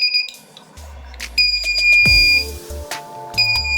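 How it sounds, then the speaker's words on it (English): A buzzer on an Arduino circuit sounds in short, shrill electronic tones that switch on and off in a stuttering pattern, close and fairly loud, with clicks and brief low thumps between them. "You can see the buzzer is buzzing as well and it is blinking"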